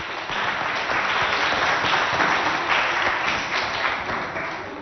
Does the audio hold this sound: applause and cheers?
yes